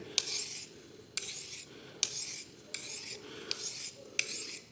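A knife blade being honed by hand on a natural Washita whetstone makes rhythmic raspy strokes, about six regular back-and-forth passes, close and clear with no talking.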